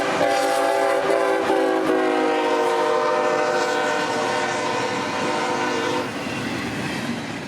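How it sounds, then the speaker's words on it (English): Southbound intermodal freight train I-137 rolls through Folkston, Georgia, on Track 2. Its horn blasts loudly and close for several seconds over the heavy rumble and wheel clatter, and the noise eases slightly toward the end. "First customer this day in Folkston would be I-137, rolling south on Track 2 with plenty of intermodal out of Charlotte for Jack's Ramp in Duval Yard."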